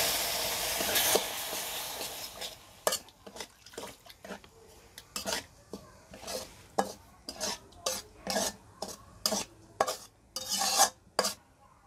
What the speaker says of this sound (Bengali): তারপরে এটাকে অনবরত নেড়ে সুজির মধ্যেই দুধটাকে শুকিয়ে নিতে হবে